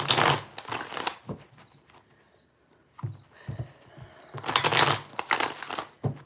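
A tarot deck is shuffled by hand in quick crinkling bursts with pauses between them, close and fairly quiet, with no voices.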